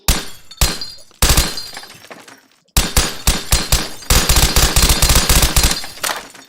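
Gunfire in a first-person video game: loud, sharp rapid shots in quick bursts, with brief pauses between volleys and a sustained stretch of rapid fire toward the end, heard alone at close range.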